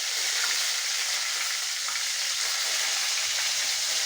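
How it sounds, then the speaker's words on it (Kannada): Curry leaves with mustard seeds and cumin crackling in hot oil, a dense, steady bright sizzle that fills the whole stretch at close range, with no talking. "ಅದಕ್ಕೆ ಸ್ವಲ್ಪ ಸಾಸಿವೆ ಜೀರಿಗೆ ಹಾಕ್ಕೋಬೇಕು. ಆಮೇಲೆ ಕರಿಬೇವನ್ನು ಹಾಕ್ಕೋಬೇಕು."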